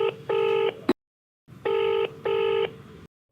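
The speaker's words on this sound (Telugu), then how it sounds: "లిఫ్ట్ చేయట్లేదు, రింగ్ అవుతుంది కానీ" A phone line rings unanswered, with two pairs of evenly spaced ring tones separated by a silent gap, clear and steady with no talk.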